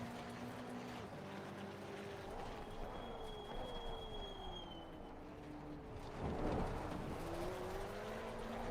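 A GT4 race car at full speed in Assetto Corsa Competizione at Spa-Francorchamps holds a steady, loud engine drone, its pitch rising and falling through gear changes, with a brief thicker burst of noise near the end.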